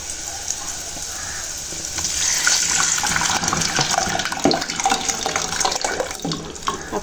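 A potato and lentil dal mixture pours into a hot pan, giving a continuous splashing, sizzling wash that swells slightly after the first couple of seconds and runs on steadily to the end.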